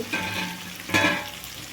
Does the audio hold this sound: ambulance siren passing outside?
no